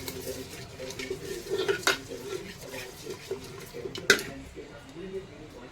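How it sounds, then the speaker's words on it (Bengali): Ghee and food colouring being mixed into cooked, drained rice in a pot, with soft scraping and clinking of a utensil against the pot and a couple of sharper knocks, under a voice speaking quietly. "ভাতটা ঝরিয়ে নিয়ে ঠান্ডা করে নিয়ে ভাতের মধ্যে ঘি আর একটু রং মিশিয়ে নিচ্ছি"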